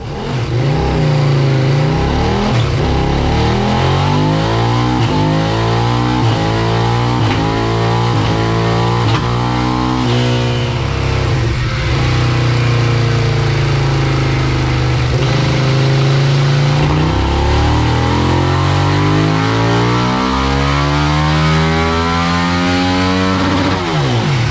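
A KTM RC8/Super-Duke hybrid motorcycle engine revved hard and close, rising and falling in repeated loud throttle sweeps that climb in pitch, with steady roaring idle between runs.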